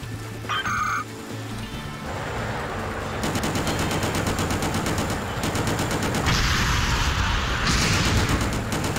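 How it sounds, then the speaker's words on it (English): Rapid machine-gun fire and heavy explosions from the video game Just Cause rattle loudly and continuously, with bursts of automatic shots layered over booming blasts and a dense roar of combat. "Explosions again."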